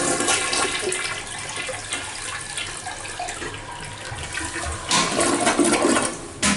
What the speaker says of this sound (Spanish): Tenemos un sanitario con su tapa y su bizcocho en buen estado, funcionando su descarga.